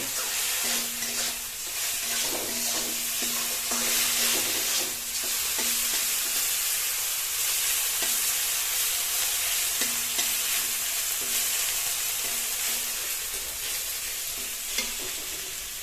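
Ginger, garlic and green chilli paste, ground on a grinding stone, hits a hot pan and fries with a steady, loud sizzle, stirred now and then with scraping strokes throughout.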